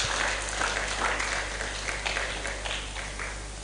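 A crowd of small business owners at a bootcamp applauds together, producing a loud, continuous wash of clapping that fades slightly toward the end over a low background hum.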